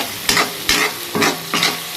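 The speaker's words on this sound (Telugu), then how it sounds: "ఆయిల్ మంచిగా హీట్ అయిపోయినాక ఇవి రెండు అయితే వేసుకొని మంచి కలర్ వచ్చే వరకు అయితే ఫ్రై చేసేసుకోవాలి" Green chillies and onion fry in hot oil, giving a loud, close sizzle that swells in four regular bursts as the pan is stirred.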